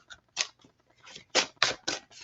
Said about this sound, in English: We're going to just give this a quick shuffle.